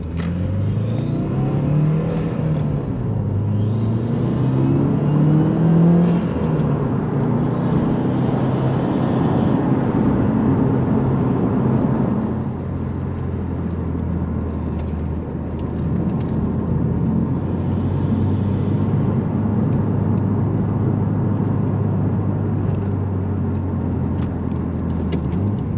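A 2015+ Subaru WRX engine from inside the cabin, revving and falling through several gear shifts, with a steady drone and road rumble underneath, loud and continuous, with no talking.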